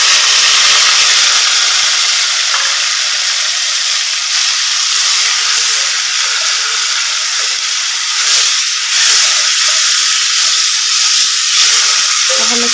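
Ginger garlic paste and green chilies frying in a pan at home, a steady loud sizzle and hiss that runs without a break for the whole stretch, with no talking over it.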